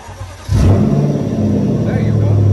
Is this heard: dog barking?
no